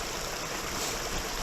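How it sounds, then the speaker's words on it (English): Water from Dismal Creek in Arkansas's Ozark National Forest runs down a hillside, a constant, fairly close rushing wash that stays steady throughout, with no one speaking. "There's water running down here, and it is quite pretty."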